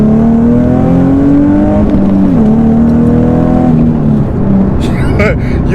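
A car accelerates hard in second gear, the engine a loud in-cabin drone rising steadily in pitch, easing at a gear change and then pulling again before falling off near the end.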